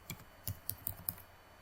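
A web address typed on a computer keyboard: five or six separate clicky keystrokes in a short, uneven burst, close and clear against a quiet room.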